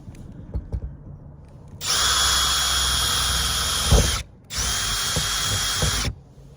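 A power drill boring a hole through a Promaster van roof runs in two long, loud whining bursts separated by a short pause, with a thump between them and quiet handling noises before.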